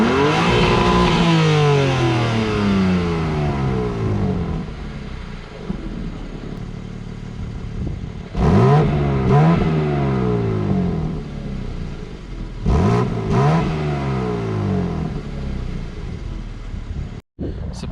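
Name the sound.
BMW M2 2023 engine and exhaust revving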